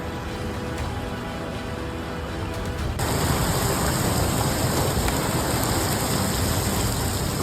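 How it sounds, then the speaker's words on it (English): A torrential downpour floods city streets in Edmonton, a steady loud roaring wash of rain and rushing water that swells noticeably partway through and stays dense to the end, with no voices. "a torrential downpour turns the streets of Edmonton into a giant fountain"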